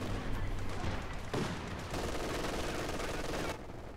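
Machine gun fire in a Company of Heroes 2 battle, dense rattling bursts that overlap into a continuous fusillade, moderately loud under the game's battle mix, with a brief heavier boom partway through.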